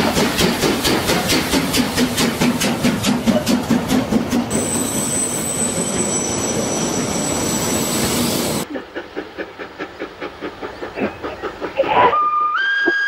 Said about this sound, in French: Voici le train qui s'en va, remorqué par la locomotive à l'étude.